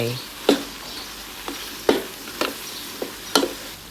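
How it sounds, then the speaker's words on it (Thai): Pork ribs stir-fried with southern Thai curry paste and shrimp paste, with a few sharp spatula scrapes and clanks against the pan over a soft background sizzle, spaced irregularly and fairly close. "ผัดคลุกเคล้าให้เข้ากัน"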